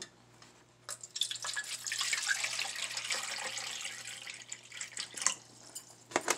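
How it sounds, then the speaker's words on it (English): Bottled water pours into a container to dissolve sweetener for low-carb keto lemon drink mix, a steady splashing trickle running for several seconds with a faint hum beneath and brief clinks near the end. "what you're going to do is you're going to put in some bottled water"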